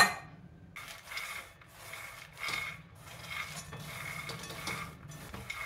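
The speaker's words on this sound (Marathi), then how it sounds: "शेंगदाणे भाजताना एकसारखं हलवत राहायचं।" A spoon or spatula scrapes and rattles through roasting peanuts in a pan, in a run of quiet, repeated stirring strokes.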